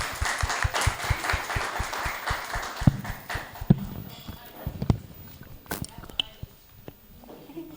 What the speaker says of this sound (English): Give Andy Siwe a round of applause.